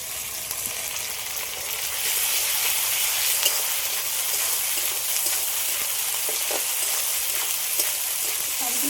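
Ginger garlic paste fries in a pan with a steady, loud sizzle, the oil hissing evenly throughout with a few faint stirring scrapes.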